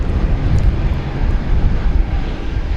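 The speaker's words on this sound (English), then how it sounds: "It's an American Eagle Embraer 175." An American Eagle Embraer 175 jet arriving to land at Dallas Fort Worth airport at night, heard as a steady, loud, broadband engine roar with a low rumble that holds throughout, with no talk.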